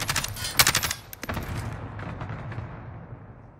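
Rapid bursts of automatic gunfire in the battle royale game Call of Duty: Warzone, loud and close at first, then thinning into scattered shots and a softer rumble as the firing fades out.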